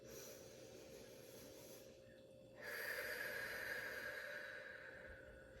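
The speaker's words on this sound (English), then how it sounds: "now we're going to just take a couple of breaths" Slow, deep breathing during a guided energy-healing routine with hands clasped at the heart, a steady breathy rush that swells into a stronger, louder exhale partway through, with no talking.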